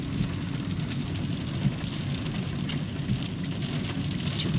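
Heavy June downpour over Ryazan, a dense steady roar of rain pounding surfaces with faint traffic underneath, continuous and loud throughout, no voices.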